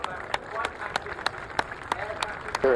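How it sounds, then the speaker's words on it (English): Crowd applause at an air show, a lively patter of clapping with a few sharp, distinct claps cutting through, while a commentator's voice carries over it. "big round of applause, and well deserved too."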